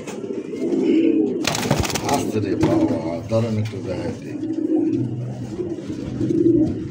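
Domestic pigeons, including a single male, coo in low, rolling bursts close by at a pigeon market, repeating several times while people talk nearby.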